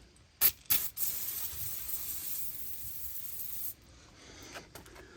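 PB Blaster penetrating oil sprayed from an aerosol can onto a rusted shock bolt on a 2002 Honda Accord, with two quick short bursts followed by one long steady hissing spray of about three seconds, close and clear.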